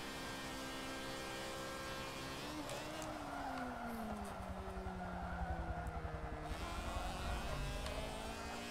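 A race car engine in Forza 7 revs high, drops in pitch through a gear shift and climbs again. The engine note is continuous and fairly faint, with no talking.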